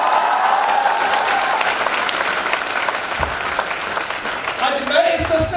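Loud applause from a large audience at a corporate recognition program, continuous dense clapping throughout with crowd noise and a voice briefly audible near the end.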